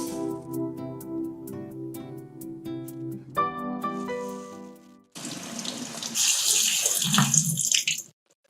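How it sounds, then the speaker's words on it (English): Cold tap water runs steadily into a sink as a cup of yellow lentils is rinsed, a loud close splashing stream that starts after a stretch of music and continues before stopping abruptly. "Begin by rinsing 1 cup of yellow lentils under cold water."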